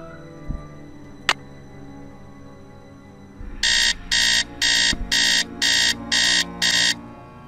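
A digital alarm clock, set for four o'clock, beeps in seven evenly spaced bursts over a quiet room, loud and close, following a few soft knocks.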